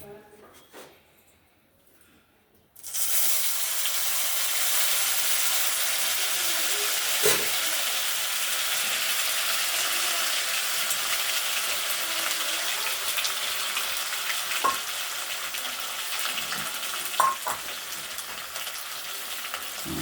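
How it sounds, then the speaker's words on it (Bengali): Spice paste dropped into hot oil for chana masala, starting after a quiet moment with a sudden loud, steady sizzle that keeps going close and strong, broken by occasional stirring knocks. "এবার মশলাটা আমি তেলে দিয়ে দিলাম"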